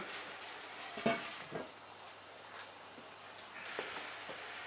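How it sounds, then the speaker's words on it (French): A langoustine curry sauce simmers in a pot with a soft, steady bubbling hiss, punctuated by a couple of brief stirring clinks, close and quiet. "je vais laisser mijoter encore un tout petit peu"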